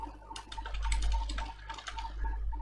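Rapid typing on a computer keyboard while entering code, a dense run of light clicks and key taps heard close up, with a steady low hum underneath.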